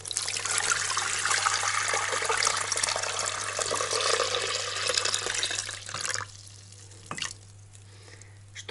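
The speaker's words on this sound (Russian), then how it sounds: "Сейчас мультиварку водой зальем" Water pours steadily into a multicooker holding chicken sausage with a rushing splash, then stops, leaving a few faint drips and a quiet clunk.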